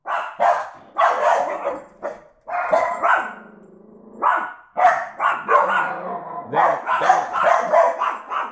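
A dog barks in bursts at a short distance, the barks coming in quick clusters with brief pauses between them.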